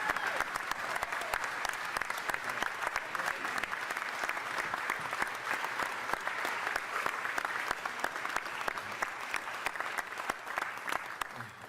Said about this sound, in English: I want you to join me in giving a huge round of applause